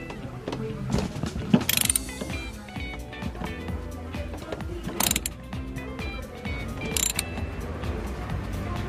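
Ratcheting wrench tightening the final bolt on a Suzuki Splash seat mount, with repeated clicking pawl strokes and metallic clatter heard up close throughout.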